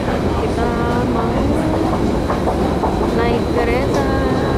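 A train at Promenade station in Singapore, rumbling loudly and steadily with rail clatter and squealing tones, while people talk over it.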